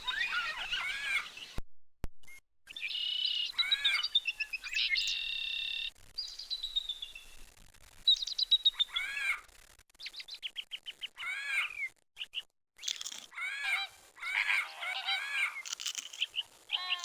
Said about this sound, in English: The parrots awoke to a sunny morning and the sound of squawks. The cliff wall was covered with wild scarlet macaws.